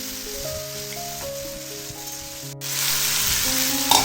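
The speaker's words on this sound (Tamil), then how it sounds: "இப்போ ஒரு 3 மீடியம் சைஸ் தக்காளி அதையும் கூட சேர்த்து நல்லா வதக்கிக்கிறேன்." Small onions and three medium tomatoes sautéing in a pan, a steady crackling sizzle that swells louder partway through, with light stirring and background music underneath.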